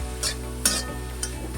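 Spatula stirring potato, peas and cabbage with turmeric in a pan, a few distinct scraping strokes over a low steady sizzle, close and clear with no talking.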